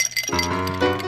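Ice cubes clink sharply against a martini glass, a bright ringing chime that follows a brief rattle and then sustains clearly up close.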